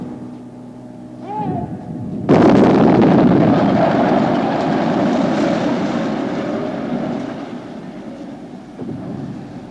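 A building is brought down in a demolition, hitting with a sudden loud bang and then a long rumbling roar of collapse that slowly fades. A voice is heard briefly before the blast.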